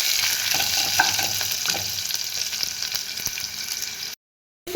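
Dry red chilies and onion fry in hot oil in a pan for an Odia-style dal tadka, giving a steady close sizzle with occasional sharper crackles and no talk.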